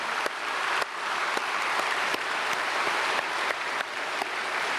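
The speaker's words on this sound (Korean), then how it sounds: "가족들 우리 크게 박수로 환영하겠습니다" A church congregation at a Sunday service claps steadily in a sustained round of applause welcoming a visiting family, dense and even throughout with a few sharper claps standing out.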